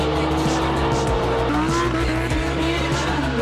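A Lamborghini revving hard with tires squealing, a loud continuous engine roar and shifting whine dominating throughout.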